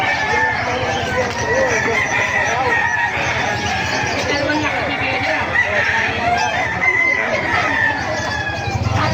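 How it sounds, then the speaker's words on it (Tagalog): Many chickens and roosters crow and cluck continuously at a market in Bocaue, a busy, loud barnyard chorus with a voice talking faintly among them. "napakarami pong manok dito"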